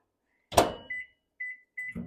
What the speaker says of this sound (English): 30 seconds in the microwave.